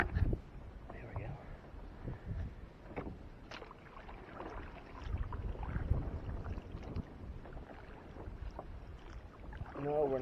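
Paddles dip into water as a small boat moves along, with faint, irregular splashes and wind noise beneath quiet conversation between the paddlers.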